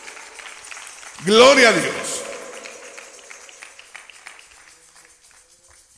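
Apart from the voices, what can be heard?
congregation applauding in church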